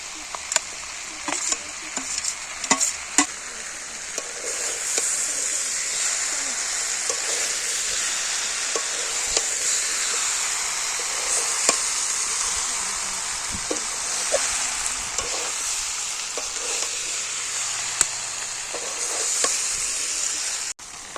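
Steady hissing sizzle of shrimp frying in hot oil, continuous and fairly close, with occasional small pops and utensil taps.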